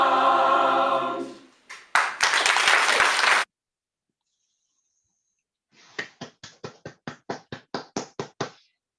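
Audience clapping at a Workers Memorial Day event in Leicester, a few seconds of dense applause that cuts off abruptly, then after a silent pause about a dozen separate, evenly spaced sharp claps or knocks.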